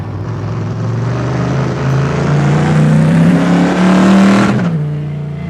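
Modified race car engine from a racing video game drones steadily and loud, pitch slowly climbing as it revs, then dropping sharply near the end as the throttle lifts.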